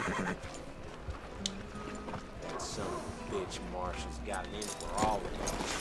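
A horse whinnies several times in Red Dead Redemption 2 over clip-clopping hooves and a busy background, with a voice speaking among the game sounds.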